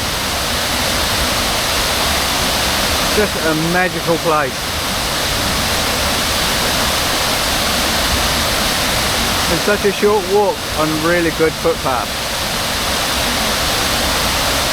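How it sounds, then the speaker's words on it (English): Catlin Falls in New Zealand, running heavy with water, roars as a steady, loud wash that fills the whole clip while people talk over it. "The main Catlin Falls, as you can see with the amount of water, really pumping today."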